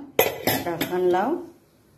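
A metal lid goes onto a pressure cooker holding vegetable soup with a cumin and ghee tempering: three sharp, close metallic clanks in quick succession, then a brief voice-like tone before it falls quiet.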